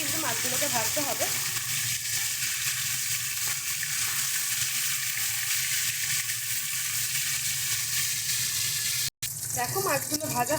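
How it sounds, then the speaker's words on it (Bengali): Ganges bele fish being turned as it fries in hot oil, giving a continuous close sizzle with light scraping and clinks of a utensil at the start and end and a short gap near the finish. "সুন্দর করে উল্টে পাল্টে কিন্তু মাছগুলোকে ভাজতে হবে।"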